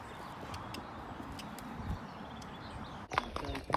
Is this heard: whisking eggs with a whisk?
no